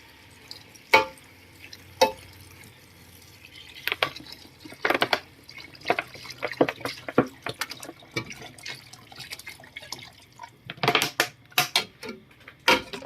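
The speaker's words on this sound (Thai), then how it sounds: "มาเติมน้ำแล้วเราก็ปิดฝาไว้นะครับ" Water poured into a pot of pork, then the lid set down: a run of scattered drips, splashes and clinks, closing with a quick cluster of sharp knocks and rattles, close by with no talking.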